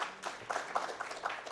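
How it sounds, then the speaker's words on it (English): An audience at a sustainable housing and cities summit applauding, a steady patter of many hands clapping at moderate volume, with no voices standing out. "A round of applause for her,"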